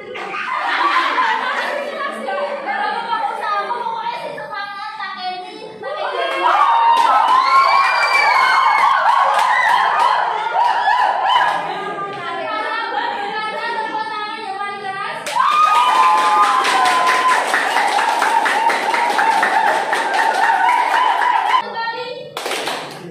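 A classroom of pupils claps hands in repeated bursts, with excited children shouting, laughing and chattering throughout, and a dense, loud round of clapping near the end.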